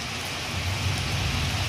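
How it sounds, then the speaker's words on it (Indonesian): Heavy rain with wind pours down at a bus terminal in Muara Bungo, a dense, loud, unbroken roar of drops with no voices. "Hujan ya ini ya."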